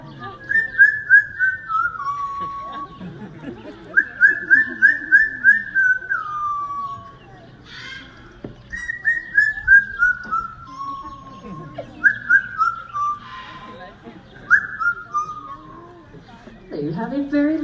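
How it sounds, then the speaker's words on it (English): A pet bird whistles an improvised tune in repeated descending phrases, loud and clear with short pauses between runs, and faint background noise beneath. "as he is whistling for you, it is different every presentation"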